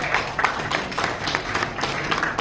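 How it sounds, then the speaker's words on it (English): A room of media and journalists at a press conference for the Jom Run KL Tower International Challenge 2022 claps steadily, with moderate, even applause sustained throughout. "Give a round of applause to all the media"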